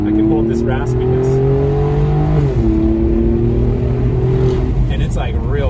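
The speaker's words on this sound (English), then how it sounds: "if I hold off on some of the throttle, I can hold this raspiness" An Alfa Romeo Giulia QV with a centerline X-pipe and straight-pipe resonator delete growls at partial throttle with a raspy, loud exhaust tone that holds steady, then shifts pitch; a voice talks faintly underneath.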